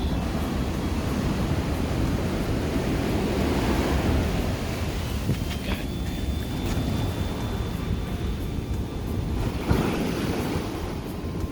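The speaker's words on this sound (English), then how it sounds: "Big waves, big old waves." Big ocean waves break and wash along the beach at Mazatlan, a continuous loud roar of surf with gusty wind buffeting the microphone throughout.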